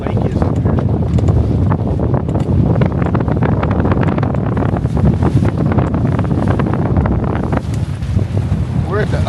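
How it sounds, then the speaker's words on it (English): Strong gusty wind on an open lake aboard a Catalina 22 sailboat with reefed main, loud buffeting roar across the microphone with water wash beneath, steady throughout. "The wind's out of the north, which is towards that area, so the gusts are a little bit"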